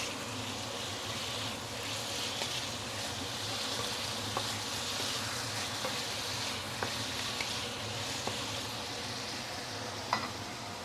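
Pork belly sizzling in a pan with caramelized sugar, a steady close frying hiss that carries on throughout, with occasional small pops and spatula clicks and no speech.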